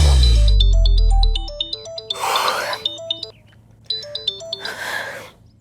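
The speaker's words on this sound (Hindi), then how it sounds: "आर्यन का फोन है, क्या करूं यार?" Mobile phone ringtone for an incoming call: a bright electronic melody of repeating beeping notes plays close by in two bursts, with sighs and gasps in the room between them.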